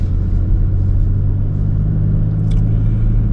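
A 2022 Toyota Tacoma TRD Pro in Electric Lime cruises along, its steady low engine and road drone filling the cabin with a constant rumble and no voices.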